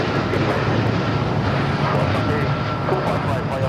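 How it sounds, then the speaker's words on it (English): A Hawaiian Airlines Boeing 787-9 Dreamliner takes off from LAX, its engines a loud, continuous roar under voices talking. "This is Hawaiian Airlines Flight 3 taking off to Honolulu on the 787-9 Dreamliner."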